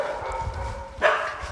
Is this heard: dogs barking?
yes